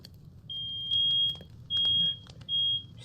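A building fire alarm going off during maintenance work, sounding three long, piercing, steady electronic beeps in a regular pattern over a low background rumble, with no voices.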